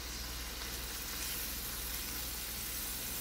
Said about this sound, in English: And here we have the bacon cooking.